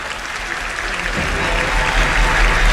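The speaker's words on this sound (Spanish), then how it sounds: "Escuchen el aplauso del público de Olimpia" Olimpia football supporters applaud inside the stadium after a 2-0 league win over Sportivo Luqueño in Paraguay, a dense, steady roar of clapping from a large crowd that swells slightly toward the end.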